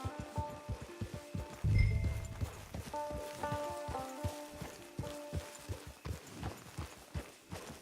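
Steady clip-clop of horse hooves walking at an even rhythm in Red Dead Redemption 2 Online, fairly close, with a brief low thump early on and a faint tonal hum behind.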